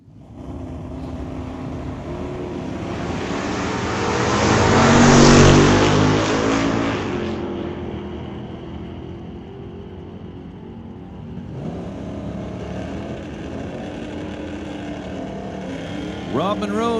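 A 1969 GMC drag car launches at an old-time drag meet, its engine roar swelling to a loud peak then fading down the strip, followed by a softer ongoing engine drone as a new run starts.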